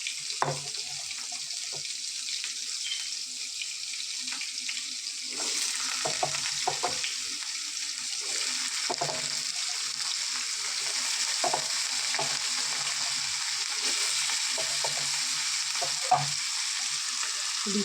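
Potatoes frying in hot oil after tempering spices for aloo chorchori, a steady sizzle with intermittent scraping and clinking as a spatula stirs the pan, close and continuous over nearly twenty seconds.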